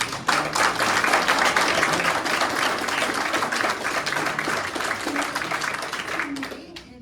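Audience applause at a township workshop meeting: a burst of dense clapping that holds steady for several seconds, then thins and fades near the end.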